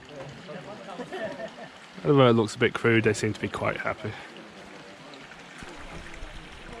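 Waterfalls near Luang Prabang pour into clear, slightly turquoise pools, giving a steady rushing wash of water that runs the whole time beneath someone speaking close by.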